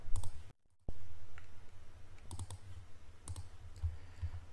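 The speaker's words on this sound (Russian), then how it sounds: "Таким же образом кликаем на Auto Range, и у нас подгружается каждая неделя по порядку." A computer mouse clicks a button in charting software with a few sharp, close clicks spread over a faint room hum and soft background noise, and there is no talking.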